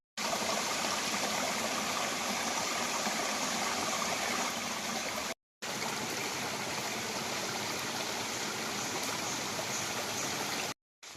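A river stream flows steadily with a broad, constant rushing of water, close and loud, alone without voices, broken only by two brief cuts to silence.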